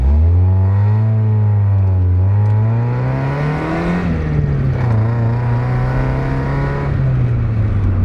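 A repaired Mazda Miata sports car accelerates hard on a test drive. The loud, close engine note climbs steadily in pitch, dips briefly, then holds a strong even drone, with no one talking.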